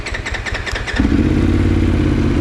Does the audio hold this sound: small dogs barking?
no